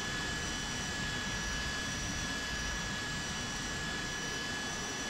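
McDonnell Douglas Harrier II jet engine in Flight Simulator X, a steady, dense roar with a thin high whine running through it, even and unbroken throughout with no talk.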